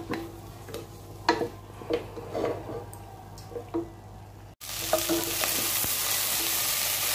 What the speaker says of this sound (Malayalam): ഇതിലേക്ക് നമ്മൾ നേരത്തെ അരിഞ്ഞു വെച്ചിരുന്ന ക്യാപ്സിക്കം കൂടെ ചേർത്ത് കൊടുക്കാം അതും കൂടെ ചേർത്ത ശേഷം നല്ലോണമൊന്ന് ഇളക്കി യോജിപ്പിക്കുക